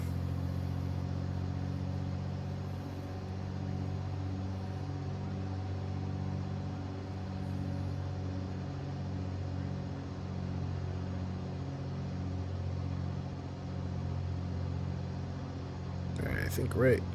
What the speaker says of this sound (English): let's do our run-up